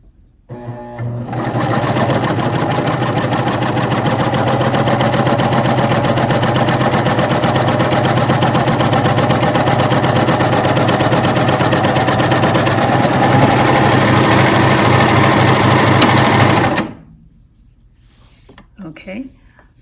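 A coverstitch machine sews a hem in one long continuous run, a loud, close, steady mechanical whir lasting about fifteen seconds before cutting off into near silence.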